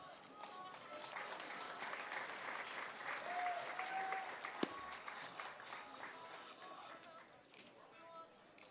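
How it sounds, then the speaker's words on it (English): Applause and crowd noise from an audience at an FCA All-Star Festival softball game, a steady broad wash of clapping held at moderate level for several seconds, with voices mixed in underneath. "Please join me in offering a big thank you and round of applause to Stephanie Lang."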